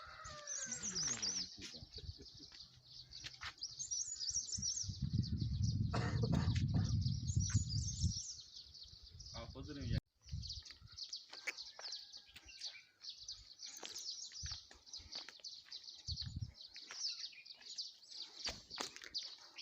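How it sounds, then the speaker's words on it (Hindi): Small birds chirp and twitter in scattered bursts in an open mountain setting, with a stretch of low rumbling noise partway through. "चिड़ियों के चहचहाने की आवाज़ों की क्या ही बात होती है जी पहाड़ों में।"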